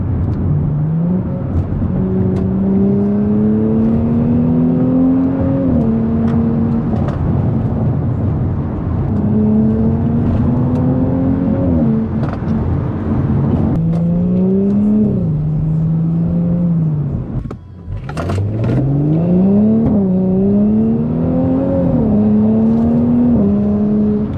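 Stage 2 Audi S4 heard from the cabin in comfort mode, its engine repeatedly climbing in pitch and dropping at early upshifts, a steady loud drone with one sharp brief interruption near the end.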